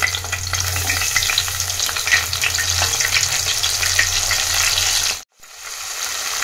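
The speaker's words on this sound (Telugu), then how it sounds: "సో ఆయిల్ వేడయ్యాక కార్న్ వేసేసుకొని ఫ్రై చేసుకోవడమే." Corn kernels frying in hot oil, a loud, steady close sizzle with bubbling crackle that cuts out sharply for a moment and then resumes.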